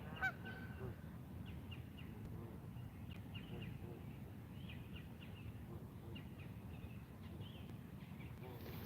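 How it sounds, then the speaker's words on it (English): Geese honk near a spring carp fishing spot, a faint, fairly distant run of repeated calls over steady low background rumble, with a voice heard briefly. "Annoying bird."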